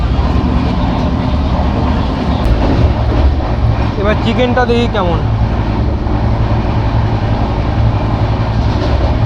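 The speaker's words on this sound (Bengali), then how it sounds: "ট্রেন বেশ ভালো স্পিডে যাচ্ছে এখন মালদা থেকে ছাড়ার পর" Passenger train running at speed after leaving Malda, on a Balurghat–Sealdah express, gives a steady loud rumble and rattle throughout, with a person talking close by over it.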